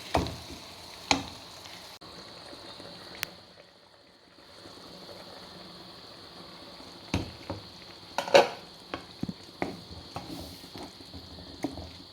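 Chicken stew with thin coconut milk simmering in a pot: a low, quiet hiss of bubbling, broken by scattered sharp pops and clicks that grow more frequent later, with no talking.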